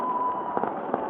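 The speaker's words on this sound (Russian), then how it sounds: "Салют в этом году удался." Victory Day fireworks salute heard at a distance as a dull, continuous rumble with several soft bursts popping through, no voices over it.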